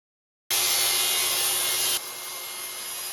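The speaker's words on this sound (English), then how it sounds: "I'm using a 2-inch flattening bit." Router fitted with a 2-inch flattening bit surfacing a white oak slab: a loud, steady high-pitched whine with rushing cutting noise starts abruptly, then drops to a softer, lower level partway through.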